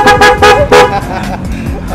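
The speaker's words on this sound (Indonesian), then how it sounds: "Nih, klaksonnya coba nih. Coba klakson." Several short, loud horn toots in quick succession from a nearby modified Vespa Sprint S ABS 150cc scooter, with a voice talking underneath.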